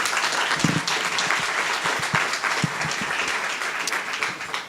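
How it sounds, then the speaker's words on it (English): Audience applause at a global health lecture as a senior advisor stands to be recognized: a dense, steady round of clapping from a large crowd, close and loud throughout with no talking. "Rosie, can you just stand up and get a round of applause here?"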